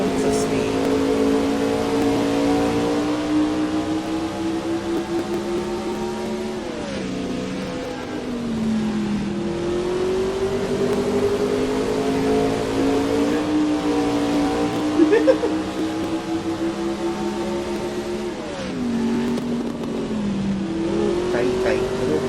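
A race car engine revs continuously around a speedway track, a loud sustained droning roar that rises and dips in pitch through throttle changes and corners across the whole stretch.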